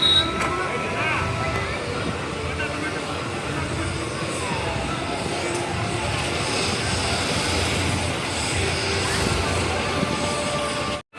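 A steady, loud helicopter engine roar drones continuously nearby at Chandrababu Naidu's public meeting in Jaggampeta, with faint voices beneath it.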